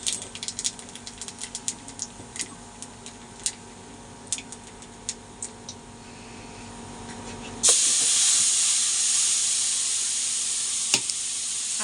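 Nigella seeds crackle in hot oil with light popping, then a spice paste goes in and sets off a sudden loud, steady hissing sizzle that carries to the end, close by and with no talking.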